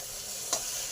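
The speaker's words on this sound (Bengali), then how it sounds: "এই সর্ষে পোস্তটাকেও 1 মিনিট ভালো করে কষে নেব" A paste of ground mustard and poppy seeds fries in a pan with a continuous bright sizzle, crossed by one brief scrape of a spatula.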